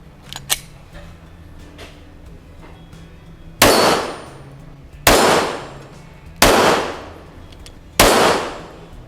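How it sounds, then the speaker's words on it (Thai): Four loud gunshots ring out at regular intervals during test firing of a gun fitted with a Vortex Defender XL red dot sight, each with a sharp crack and a decaying tail, after a few faint clicks. "เดี๋ยวจะทำการทดสอบยิงให้ดูนะครับว่าเป็นไง"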